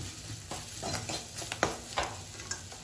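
Chili powder frying in plenty of oil for an anchovy fish curry, a soft steady sizzle under repeated scraping strokes of a stirring spoon in the pan, close but fairly quiet.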